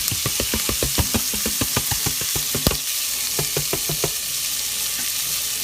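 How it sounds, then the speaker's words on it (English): Chopped vegetables and garlic sauté in butter and grease, a steady sizzling hiss with a quick series of utensil scrapes and knocks against the pan that thin out toward the end. "So now I want to input all my little chopped up veggies"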